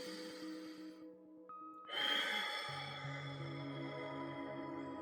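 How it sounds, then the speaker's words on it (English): One deep, slow breath is drawn in during a guided meditation, a soft breathy rush over a bed of calm sustained music. "take a deep breath."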